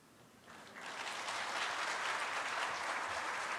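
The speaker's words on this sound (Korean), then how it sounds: "박수를 받자고 한 게 아니고요." An audience at a church teachers' seminar bursting into applause, with dense clapping swelling in after about half a second and holding steady, filling the room without voices.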